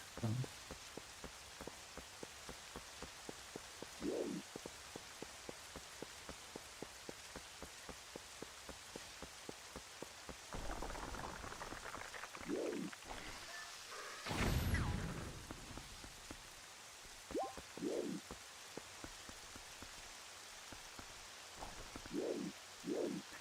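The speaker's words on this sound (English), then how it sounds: "first I need to stop the rain. How do I stop the rain?" Steady rain patters continuously across a Zelda: Twilight Princess scene, with soft drops tapping on surfaces throughout and a few louder swells and muffled thuds rising briefly above the downpour.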